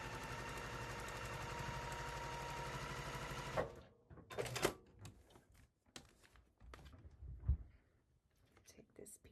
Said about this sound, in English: So he is ready to be sewn together.